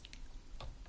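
A few light key taps on a computer keyboard while coding in the Julia REPL, a sparse cluster of soft clicks, quiet and close with no speech.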